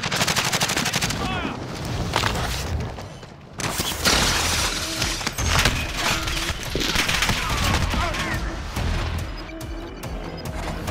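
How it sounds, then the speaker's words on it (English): Gunfire in Call of Duty Warzone, loud dense volleys of automatic shots mixed with sharp shattering impacts and crashes, nearly continuous with one brief gap, with a voice briefly talking beneath the shooting. "I'm taking fire."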